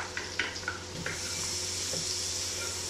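Onion frying in a pan for chicken tikka macaroni gives a steady close sizzle, with several quick spatula taps and scrapes early on before the hiss settles.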